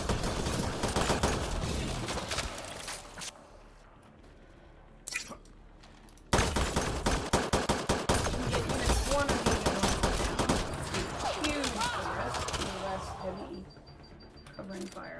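Gunfire in the video game Mass Effect Andromeda: rapid automatic bursts and sharp shots, loud and close, come in dense volleys. They stop briefly, then resume, with game effects and a voice talking at times.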